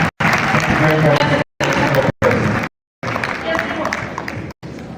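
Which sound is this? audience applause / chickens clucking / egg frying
audience applause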